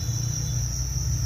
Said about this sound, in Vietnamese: Đây là cái thùng dế nó mới lở đây